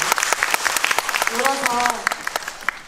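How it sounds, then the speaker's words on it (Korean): A theatre audience applauds at a musical's special curtain call as a singer is introduced, clapping that is rhythmic and sharp at first. A voice speaks briefly over it with a sung tone in the middle. "여러분 큰 박수로 청해주세요."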